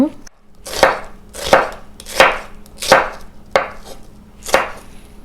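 A knife chopping red shallots on a board, six or seven firm evenly spaced chops, close and clear, with no voices.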